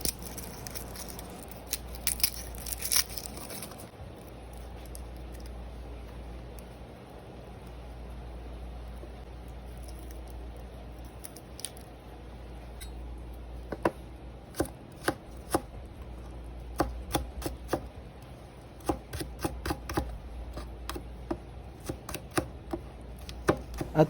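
Garlic being chopped on a board for a Filipino dish of chicken liver and gizzards, a run of sharp knife taps over a steady low room hum, sparse at first and then quicker and clustered toward the end.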